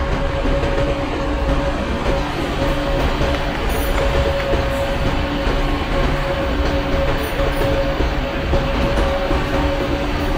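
A simulated Indian passenger train in Microsoft Train Simulator rumbles along as it slows near a junction, a loud continuous rolling drone with a steady tonal hum and faint clicking wheel noise.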